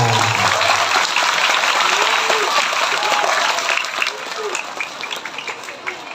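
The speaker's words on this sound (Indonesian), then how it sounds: "Tepuk tangan buat guru-guru kita." Sustained applause from a crowd at a religious lecture, a dense wash of clapping that holds steady and then thins out slightly toward the end.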